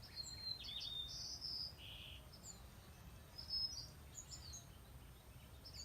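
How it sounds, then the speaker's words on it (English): Several birds sing outdoors in early morning, bright chirps and short trills scattered across the scene over a steady hum of insects and low ambient rumble, moderately distant with no voices. "I hear them birds singing and speaking to each other."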